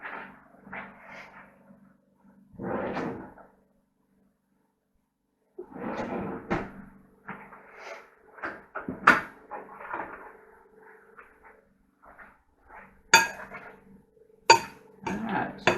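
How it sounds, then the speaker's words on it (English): Someone fetching a spoon in a home kitchen while making diced radish kimchi: a cupboard knocks, then scattered clinks and clatters of metal cutlery, close and intermittent, with short gaps of near silence. "let me get a spoon"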